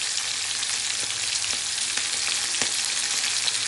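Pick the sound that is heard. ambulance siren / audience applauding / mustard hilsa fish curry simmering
mustard hilsa fish curry simmering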